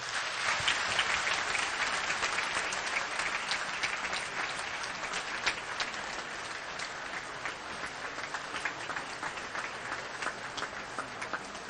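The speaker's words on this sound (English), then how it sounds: "let's give one more big round of applause to the President." A large audience applauds at the opening of the African Development Bank Group's 2024 annual meetings, producing dense, sustained clapping that holds steady for over ten seconds in a big hall.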